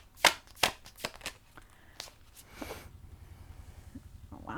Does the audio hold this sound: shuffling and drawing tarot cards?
yes